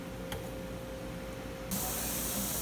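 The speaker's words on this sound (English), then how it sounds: "you can see the steam coming out quite heavily" Steam vents steadily from the pressure canner as homemade beef stew is canned, a continuous soft hiss that suddenly grows brighter and stronger partway through, close by and alone.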